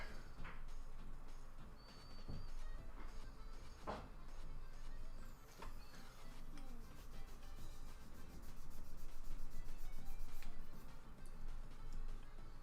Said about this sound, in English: I'm sanding so much off here. I don't want to sand too much and mess up the shape.